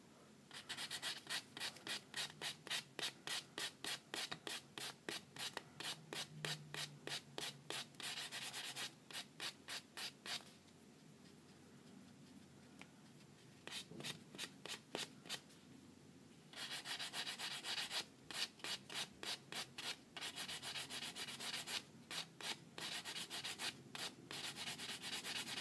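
Fingernails are filed and buffed to even out ridges, in quick rhythmic rasping strokes that run in bursts with short pauses, close and alone.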